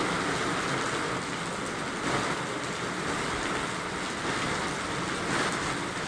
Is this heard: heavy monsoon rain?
yes